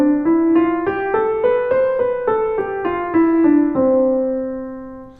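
A scale played in straight eighth notes, about a dozen evenly spaced, clear pitched notes climbing and then descending, solo and close, with the last note left ringing.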